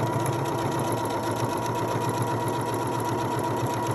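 A PFAFF Passport sewing machine hums steadily and evenly as its needle drives through multiple layers of denim, a continuous close-up mechanical whir with a fast regular stitching pulse and no pauses.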